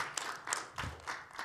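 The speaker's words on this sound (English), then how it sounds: "We give the round of applause." A few scattered claps from a conference audience at the end of a food security presentation, about five separate bursts spaced unevenly, fairly faint and thin rather than a full ovation.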